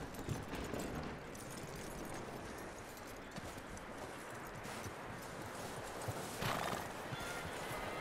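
In the video game Red Dead Redemption 2, a horse whinnies and hooves clip-clop amid a busy, noisy background, the sounds quiet and somewhat distant.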